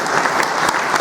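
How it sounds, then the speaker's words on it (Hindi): Loud, dense applause from an audience at a business presentation in Chapra, Bihar, a continuous burst of many hands clapping close by for about a second. "अच्छा लगा तो सर एक जोरदार ताली हो जाए।"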